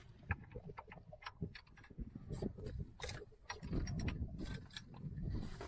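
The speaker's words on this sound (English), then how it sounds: "I'm gonna try and turn it over on the crank bolt for the first time in 18 years." An Audi 80 engine left unused for 18 years is turned over by hand on the crank bolt. Soft clicks, ratcheting and mechanical clunks come in irregular bursts, close and fairly quiet.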